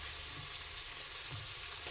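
Potatoes fry and brown in a pan with garlic cloves and leftover Christmas ham for Spanish poor man's potatoes, a steady close sizzle of hot oil with no talk.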